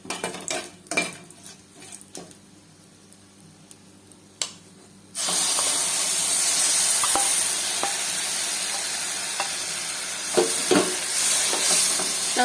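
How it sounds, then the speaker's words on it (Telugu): Short chillies and curry leaves fry in a pan. Quiet stirring and scraping come first, then a loud, steady sizzle starts partway through and holds to the end, with occasional clinks of a utensil. "పొట్టి మిరపకాయలు, కరివేపాకు. వేగిపోయినాయండి."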